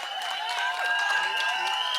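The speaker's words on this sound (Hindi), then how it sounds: "जोरदार तालियां राजपाल यादव जी के लिए।" Steady applause from an audience at a Bollywood film trailer launch event, a continuous wash of clapping from a large crowd held at even loudness throughout.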